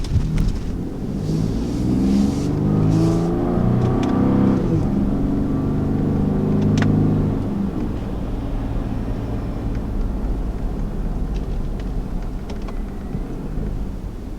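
A 2019 Ford F-150 Raptor pickup's turbocharged engine revs and pulls hard with a deep, rumbling tone, the sound swelling then settling into a steady drone throughout.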